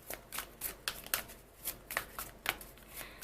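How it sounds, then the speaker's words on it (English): A deck of tarot cards is shuffled by hand in quick, rhythmic riffling bursts, close and fairly quiet, with no one speaking. "I'm going to shuffle on camera"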